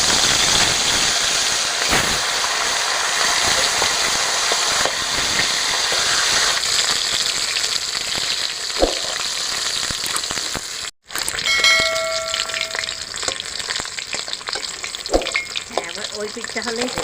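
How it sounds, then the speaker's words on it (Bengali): Fish heads, rohu, sizzle and spatter in hot mustard oil in a wok, a loud, continuous frying hiss close by with brief stirring clatter and a short break midway. "তেলটা গরম হয়ে গেছে, আমি এবার মাছের মাথাগুলো ছেড়ে দেবো।"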